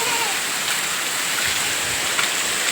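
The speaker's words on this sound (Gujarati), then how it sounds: "ઓલા ભાઈને રિક્ષા ઊભી રાખી દેવી પડી એટલો વરસાદ છે" Heavy rain pours down steadily in a Gujarat village during a downpour with thunder and lightning, a dense close hiss of water filling the whole stretch with no pause.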